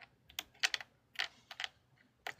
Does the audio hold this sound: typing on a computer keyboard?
yes